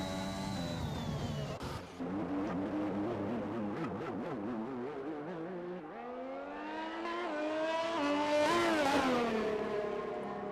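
Formula 1 cars in a racing video game, engines screaming and revving through gear changes with rising and falling pitch sweeps as one car spins out, loud and close with a brief dip partway through.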